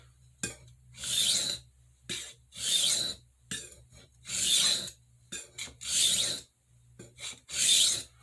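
A santoku knife scraping across a sharpening stone in a backwards pyramid pattern: five long, loud rasping strokes with short pauses between them, close and steady, with no talking.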